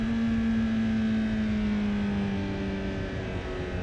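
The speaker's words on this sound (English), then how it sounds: "It's just engine braking." A car engine hums steadily under engine braking, a sustained droning tone that slowly drops in pitch as the vehicle decelerates, heard close and continuous with no talking.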